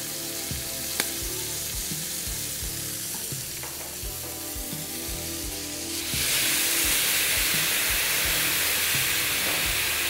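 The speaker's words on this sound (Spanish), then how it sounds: "Dejamos que se doren bien por una cara y les daremos la vuelta." Langostinos (prawns) sizzle and crackle in a hot pan while browning on one side, a steady bubbling fry with soft clicks that swells to a louder, brighter hiss partway through.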